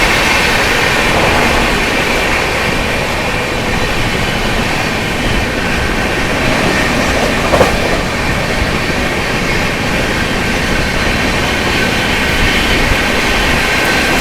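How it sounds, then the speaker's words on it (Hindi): The Gaya–Delhi Amrit Bharat Express rumbles past close by, a loud, continuous roar of rolling wheels and wind, steady throughout with no voices. "चलिए दोस्तों आप लोगों को ओवरटेक दिखाते हैं गया दिल्ली अमृत भारत का।"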